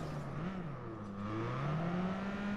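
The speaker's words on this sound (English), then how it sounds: "this car actually sounds alright, but definitely not the car I would drive in real life" A car engine in the Watch Dogs 2 video game revs and pulls along, a steady low droning tone that rises and dips in pitch, fairly close and unbroken, with no talking over it.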